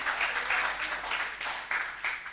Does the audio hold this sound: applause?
yes